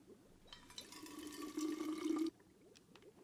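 Water being filtered in the survival game We Happy Few: a soft two-second pour and fill of liquid, rising slightly in level before cutting off abruptly, set against faint background ambience.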